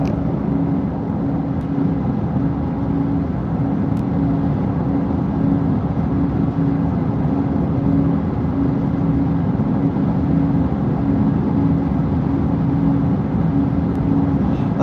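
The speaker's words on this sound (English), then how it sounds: "this car is extremely loud inside because it's the track version, so they took all the sound deadening and quietness out of it" Steady loud road roar and drivetrain hum fill the cabin of a Porsche Taycan Turbo GT track version stripped of sound deadening, droning evenly at night on the autobahn with no talking.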